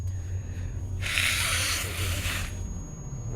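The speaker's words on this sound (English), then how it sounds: "let me blow my nose" One short, breathy blast of air, like a nose being blown, lasts about a second and a half over a low background hum.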